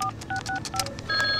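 A telephone keypad is dialed, a quick series of short touch-tone beeps in an uneven rhythm, close and clear with no talking.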